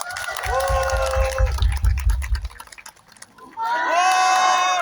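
An audience in a packed theater applauds and cheers as the lead actors and director of Crime City 3 are welcomed for a stage greeting. A loud burst of clapping and shouts fades, then rises again with voices over it.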